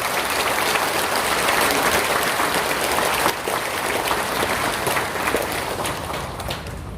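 Sustained, dense audience applause at a Buddhist temple farewell ceremony for a departing head monk, loud and steady throughout with a brief dip midway.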